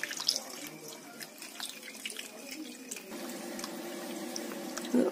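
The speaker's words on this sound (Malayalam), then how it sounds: "ഇതില് നമ്മള് വെള്ളം ഇങ്ങനെ ഒഴിക്കുകയാണ്." Water trickles and splashes steadily as it is poured into a car battery's cells, a soft continuous pouring sound close to the microphone with faint handling noises.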